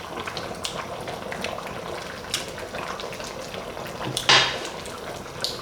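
Cantonese chicken curry boiling in a pot, a steady close bubbling and popping simmer with a sharp clink of a utensil against the pot near the end, no talking.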